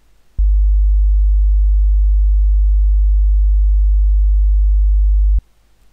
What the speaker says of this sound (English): You now hear an example of a sub-bass at 50 hertz.